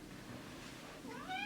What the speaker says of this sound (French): J'ai mon chat qui me parle.